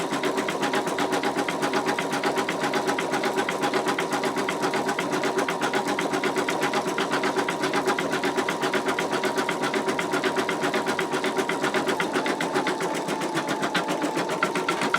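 An embroidery machine sews a knockdown stitch on an in-the-hoop wallet, producing a steady, rapid mechanical stitching chatter that runs unbroken and fairly loud with no voices.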